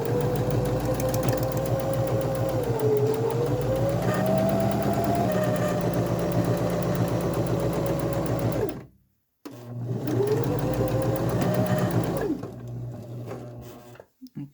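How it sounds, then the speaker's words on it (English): Sewing machine running a locking stitch on a pillowcase: a fast, steady mechanical whir with rapid needle ticking, stopping briefly near the middle then resuming, up close and alone. "We're going to do a locking stitch again."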